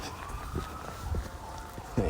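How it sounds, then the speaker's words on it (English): An ambulance siren wails at a distance as a steady rising and falling tone, partly buried under someone talking. "The ambulance."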